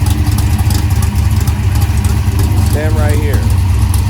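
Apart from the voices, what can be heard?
Dodge Challenger Hellcat Redeye engine idling, running E85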